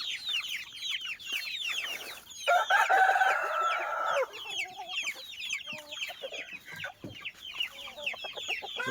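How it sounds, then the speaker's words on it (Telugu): Roosters crow in a long, loud call partway through, surrounded by steady clucking and a dense chorus of high chick peeps from a flock of young birds nearby. "పుంజాలు చూసారా"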